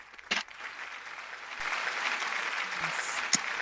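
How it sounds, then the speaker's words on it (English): Soft applause after a spoken-word performance, building from a couple of sharp knocks into a light, even patter of clapping that stays fairly faint and distant. "We applaud you"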